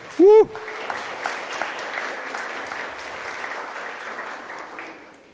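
Church congregation clapping as an offering of praise during a sermon, steady moderate applause filling the room after a short loud vocal exclamation at the start, continuing evenly without speech.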